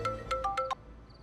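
A mobile phone ringtone for an incoming call plays a short melodic phrase of five bright beeping tones, fairly loud and close, then stops.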